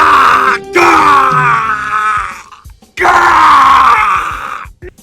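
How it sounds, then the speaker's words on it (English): The Sniper character from the video game Team Fortress 2 lets out two long, loud, strained screams, each voice breaking and trailing off, with a short gap between them. "here's a few seconds of sniper screaming.mp3"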